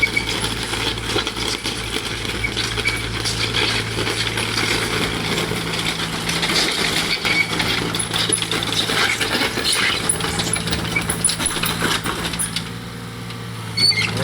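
A heavy Hitachi ZX30U excavator engine runs steadily nearby with a rough mechanical rattle and clanking, continuous and loud throughout, no talk.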